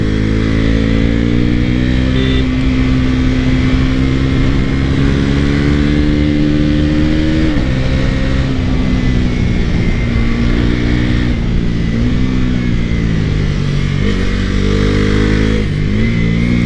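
A motorcycle engine on a first ride runs loud and close with a strong droning hum, its pitch rising and dipping as the throttle is revved and eased, continuous with no speech over it.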